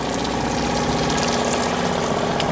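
An outboard boat motor runs steadily at idle as it is shifted into gear, giving a continuous, moderately loud mechanical drone with a watery pump-like churn throughout.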